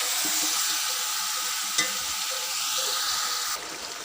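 Chicken frying until brown, a steady close sizzle with a few stirring taps, easing slightly toward the end with no talking.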